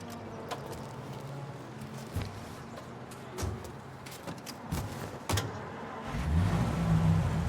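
A taxi's car engine in the game Mafia hums steadily while driving, with a few clunks and bumps along the way, then a rougher, louder engine drone swelling near the end; no talking.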